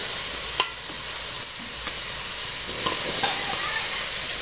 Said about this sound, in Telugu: ఇదిగోండి గిన్నె పెట్టుకున్నాను కదా ఈ కన్న మొక్కలు వేసేస్తున్నాను